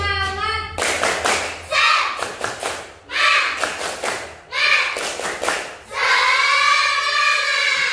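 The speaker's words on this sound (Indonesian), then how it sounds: "Tepuk semangat." A class of children claps a rhythmic spirit-clap pattern in a classroom, loud bursts of clapping in short sequences separated by pauses, with children's voices chanting or calling between the clap runs.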